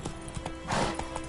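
Horse hooves clip-clopping in The Witcher 3: Wild Hunt, a short run of quick, moderately loud hoofbeats with a faint breathy snort in the middle.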